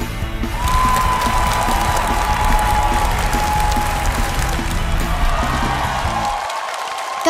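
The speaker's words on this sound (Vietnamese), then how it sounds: "Ngay bây giờ chúng ta nên vỗ tay trước đã cho hai cô cậu này, Đức Vĩnh và Quỳnh Anh, đã hoàn thành xong tiết mục của mình" A studio audience applauds loudly and steadily, with cheering mixed in, after two children finish their performance on a televised singing show, before the clapping fades out near the end.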